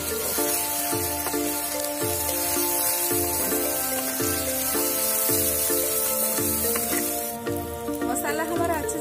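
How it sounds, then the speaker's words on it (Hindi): Masala of turmeric, red chili powder and salt fries in a clay pot, giving a steady sizzle beneath a constant rhythmic musical loop that pulses about every second. "मसाला हमारा अच्छे से फ्राई हो रहा है।"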